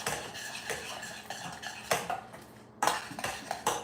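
A spoon stirring cheesecake mixture with a teaspoon of vanilla in a bowl, giving a steady run of light clinks and scrapes against the bowl, close and fairly quiet with no talk.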